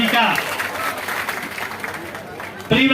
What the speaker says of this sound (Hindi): एक बार जोरदार तालियों से प्रियव्रत जी का स्वागत करें।